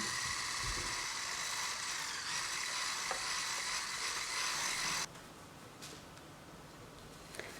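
An electric mixer beats eggs into lemon pie batter with a steady, fairly quiet hissing whir that drops abruptly to a softer level near the end, with a few faint clicks.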